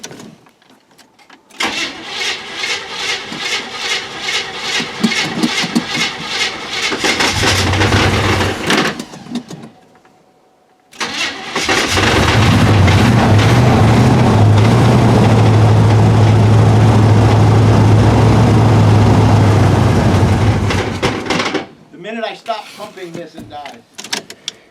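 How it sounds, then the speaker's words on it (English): A 1973 C60 dump truck engine, unrun for about twenty years, cranks with a rapid rhythmic churn, catches, and settles into a loud, steady, close idle before cutting off, with people talking around it. "Every bit of 20 years since that motor ran, and it just started like that."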